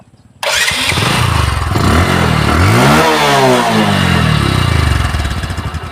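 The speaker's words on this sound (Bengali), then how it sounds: "বাইকটা সাউন্ড কোয়ালিটি কিন্তু অনেক সুন্দর আছে দেখেন ইঞ্জিন ইঞ্জিন সাউন্ড দেখেন" A 2018 Bajaj Discover 125 cc motorcycle engine starts and revs up close, climbing to a loud peak and falling back before settling into a throbbing, lumpy idle, with no talk over it.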